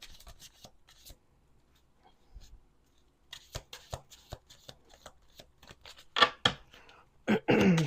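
Tarot cards being shuffled in repeated quick riffles and snaps, close up, with brief pauses between bursts and a few quiet voice sounds.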